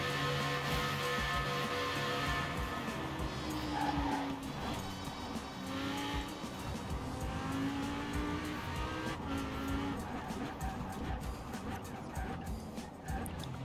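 A Lamborghini Huracan Performante in the racing game Forza Horizon 4 roars steadily, with tire squeal and skidding mixed in, at a fairly low, continuous level.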